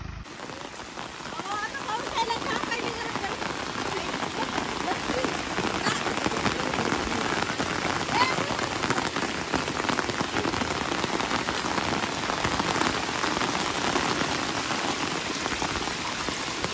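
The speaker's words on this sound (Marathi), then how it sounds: "अचानक खूप पाऊस चालू झालाय" Sudden heavy rain pours down continuously at a temple near Pune, a dense, steady roar of drops hitting surfaces close by.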